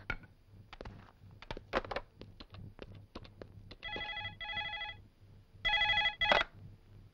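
A telephone rings in a jail scene of a Telugu film, heard as two short, bright, repeated ringing bursts among scattered clicks and handling noises over a low steady hum.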